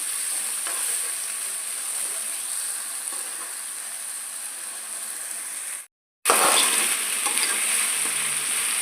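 Onions and green chillies sautéing in oil over high flame, a bright continuous sizzle with stirring scrapes, cutting out briefly near the end before returning louder.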